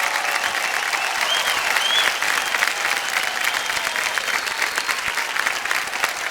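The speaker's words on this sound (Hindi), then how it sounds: "बहुत जोर से तालियां बज जाए इनके लिए।" A studio audience on the KBC quiz show applauds a contestant, a dense, sustained wash of clapping that stays loud and even throughout, with no talking over it.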